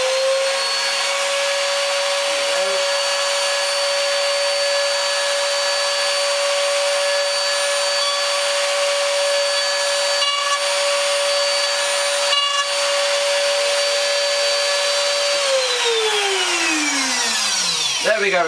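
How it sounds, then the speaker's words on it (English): A wood router runs loud and steady while cutting a mortise slot in the end of the stock, its high whine holding constant before winding down at the end. "We turn the router on."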